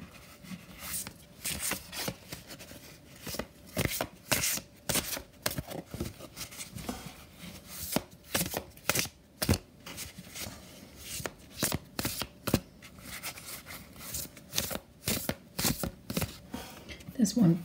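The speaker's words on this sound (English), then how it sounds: "So I'm going to give these cards a shuffle." A deck of oracle cards being shuffled repeatedly, with sharp riffling bursts and flutters recurring through the clip, close and fairly loud.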